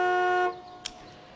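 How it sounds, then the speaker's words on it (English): A car horn sounds in a sustained steady blast for about half a second, triggered by a remote button in a parking lot, then cuts off, leaving quiet background and a brief click. "press the remote button and honk the horn"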